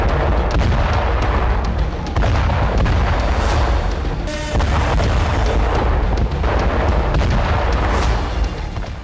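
A massive explosion on Iran's gas pipeline sends out heavy, rumbling booms that roll on continuously, with a sharp crack near the middle and dense low-end thunder throughout.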